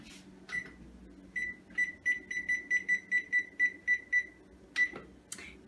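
An oven beeps as buttons are pressed to set it to preheat to 400 degrees: a few separate beeps, then a quick run of about ten evenly spaced tones, then one more beep, close and clear in a quiet kitchen.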